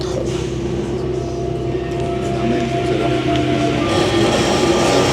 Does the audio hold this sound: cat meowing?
no